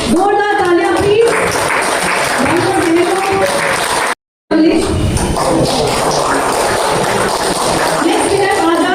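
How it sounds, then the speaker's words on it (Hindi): Crowd applause at a Swachhta Bharat Divas marathon prize ceremony in Longding, a sustained burst of clapping mixed with voices and an announcer over a loudspeaker, briefly cut to silence midway. "जोरदार तालियां प्लीज"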